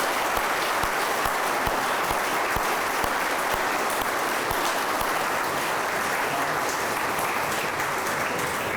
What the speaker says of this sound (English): let's give a round of applause to our newest officers and our newest